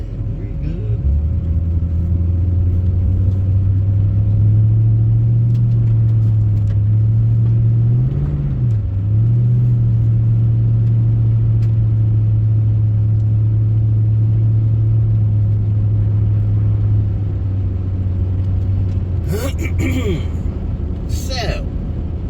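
A 2003 Mercury Grand Marquis hums along at low speed through a turn, its engine a steady, close rumble that briefly rises, with a few sharp interior clicks near the end.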